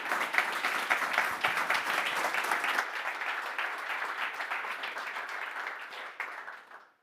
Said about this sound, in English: Give a round of applause for Mark Henry